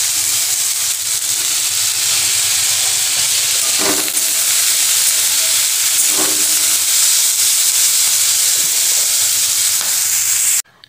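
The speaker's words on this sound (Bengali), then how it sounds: "একটু চিংড়ি মাছ এই পেঁয়াজগুলোর সঙ্গে দিয়ে দিচ্ছি ভাজা" Shrimp frying with chopped onion greens in a pan, a loud steady sizzling hiss filling the whole stretch with a couple of faint stirring knocks, close by and alone, cutting off abruptly at the end.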